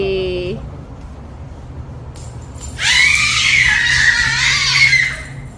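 A child lets out a long, loud, high-pitched scream that rises and wavers for a couple of seconds after a short quiet stretch and a brief vocal sound.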